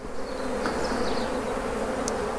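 Honey bees buzz steadily and close in a dense, continuous hum while a beekeeper builds an artificial swarm, with no break or voices.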